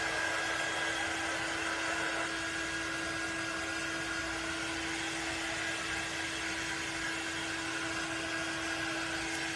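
A dryer blows over a painted transfer on a snowman sign, making a steady, even whir with a constant high whine and no pauses throughout.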